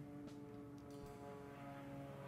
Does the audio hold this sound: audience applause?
no